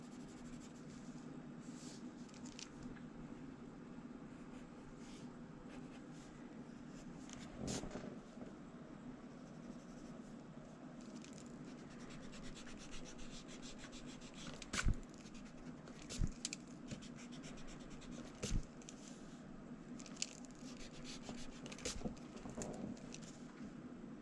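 Pencil or marker scratching over paper while sketching out a graffiti piece, a steady soft scraping texture throughout with a few sharper taps, close and quiet, no talking.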